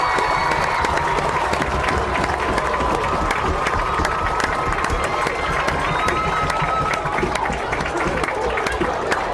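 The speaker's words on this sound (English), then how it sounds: "and now we're going to give an applause." A crowd claps and cheers steadily at a high school football game between West Orange and Bayonne, a dense, continuous wash of applause in the stands with faint talk mixed in.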